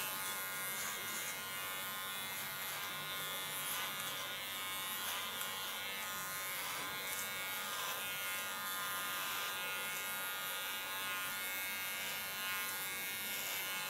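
Electric hair clippers buzz steadily through a nape shave, a close, even electric hum with no pauses and no talking.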